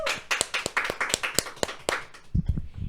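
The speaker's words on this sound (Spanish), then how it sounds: "despidiéndolo con un fuerte aplauso." A small group claps at a church gathering: distinct, fairly close hand claps in an uneven rhythm with gaps between them, thinning out toward the end, with a few low thumps at the close.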